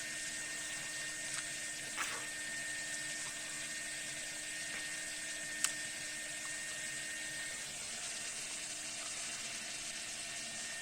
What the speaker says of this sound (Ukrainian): Так, да, вже от буде кипіти зараз чайник.